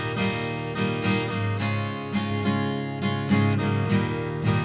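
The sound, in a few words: acoustic guitar, high-pass filter EQ bypassed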